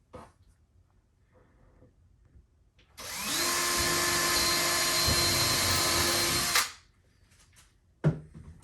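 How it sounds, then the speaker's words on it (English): Power drill pre-drilling holes into office cabinets, a single loud, steady whine running about three and a half seconds, with quiet handling noise before and a brief clunk afterward. "but I still like to pre-drill"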